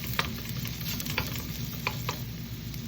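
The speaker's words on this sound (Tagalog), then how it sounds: "Hintayin ko lang yan na medyo luto yung bawang at sibuyas." Plenty of garlic and onion sautéing in a pan, with a steady soft sizzle and a few light stirring clicks, close and fairly quiet with no talking.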